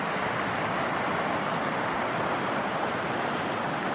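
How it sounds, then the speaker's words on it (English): The Taylor Fork River flows in a cold, foggy backcountry valley, heard as a steady, broad wash of rushing water that holds loud and unbroken throughout, with no voices over it. "This is the Taylor Fork River."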